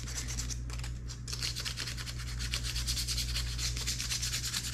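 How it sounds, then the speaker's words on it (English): Steady, close scrubbing and rubbing on the painted plastic wings of a Revell 1/48 Spitfire Mk II model kit, a continuous abrasive rasp over a low electrical hum with no talking. "I think scrubbing this off is going to work out pretty well"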